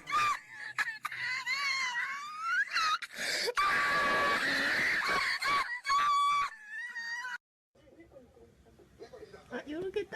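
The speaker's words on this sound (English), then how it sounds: "this dude has been screaming the entire battle" A video game character screams and wails through a battle, long strained cries and moans repeating loudly over several seconds and then breaking off, with someone talking over parts of it.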